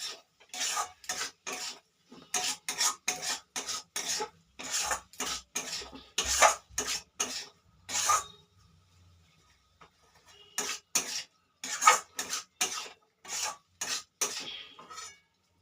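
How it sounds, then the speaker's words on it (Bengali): Mushrooms sautéed with ground cumin in a pan, a spatula scraping and stirring in rhythmic bursts close by, with a pause of about two seconds partway before the scraping resumes. "ভালো করে কষাবো।"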